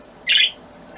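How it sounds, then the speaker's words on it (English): A pet bird lets out a single sharp, harsh squawk close by, with quiet indoor background before and after. "Sorry for the birds in the background."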